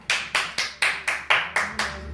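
Nine sharp, evenly spaced hand claps keep a steady beat at a dance-off, loud and close, with faint music and voices underneath.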